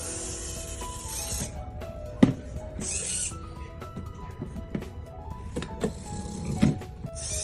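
A DIY automated book scanner mechanism opens a book's cover, giving whirring motor runs in short bursts, broken by sharp mechanical clicks and knocks, close and fairly quiet.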